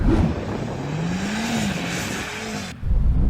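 A sports car on a wet drag strip, either a BMW M5 CS or a Lamborghini SVJ, revs hard to warm its tyres, the engine note rising and falling loudly before cutting off abruptly.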